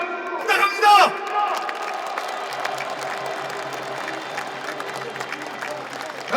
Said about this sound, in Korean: 추미애 대표, 우상호 대표께 여러분 격려의 박수 부탁합니다